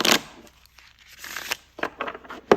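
Oracle card deck being shuffled by hand, a few quick papery riffles and flicks of card stock in short bursts, close and crisp with brief pauses between.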